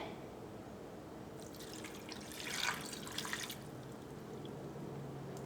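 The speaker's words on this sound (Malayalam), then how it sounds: "ഇതിലേക്ക് ആവശ്യത്തിന് വെള്ളം ചേർക്കാം. 1/2 ഗ്ലാസ് വെള്ളം മതിയാവും ക്രാബ് വേവിച്ചെടുക്കാൻ വേണ്ടിയിട്ട്." Water is poured from a glass into a pan of crab roast being cooked, a faint splashing trickle rising briefly in the middle over a quiet kitchen background.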